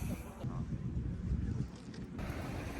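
Boat ride off the Faroe Islands, with a continuous low engine drone and strong wind buffeting the microphone, loud and steady for a few seconds.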